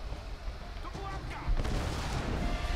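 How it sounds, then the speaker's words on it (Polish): Explosions rumble through a Tomb Raider game scene, a dense low roar that swells louder midway and keeps booming under game noise. "Kurde, jakie wybuchy."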